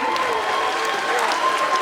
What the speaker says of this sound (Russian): Хлопайте.